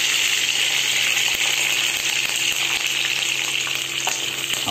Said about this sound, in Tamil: இது மூணையும் போட்டு நல்லா கொஞ்சம் நேரம் வறுத்துக்கணும்.